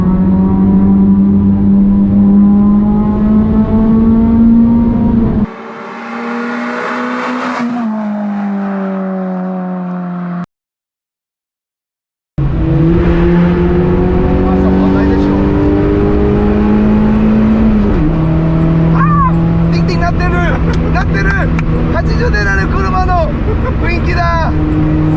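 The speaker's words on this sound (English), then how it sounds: "a racing car sound." A Toyota Levin 4A-GE racing car engine revs loud and close with a steady high drone, drops out briefly, then roars back and climbs in pitch as it passes.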